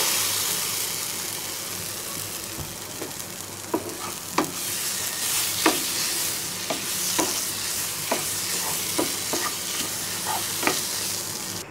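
Boiled papaya frying in a pan for Bengali papaya mash, a continuous close sizzle broken by regular spatula clacks and scrapes against the pan, with no talk.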